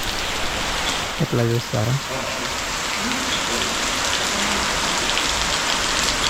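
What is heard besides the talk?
rain falling at a temple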